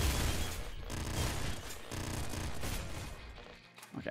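Heavy weapon fire from nuke launchers in the video game Nuclear Throne Ultra Mod, a dense, continuous roar of explosive blasts and booms that stays loud for about four seconds before briefly dipping near the end.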